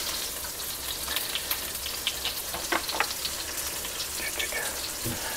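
Ingredients sautéing on low heat in a pan, a steady crackling sizzle with scattered small pops throughout, moderately close and even.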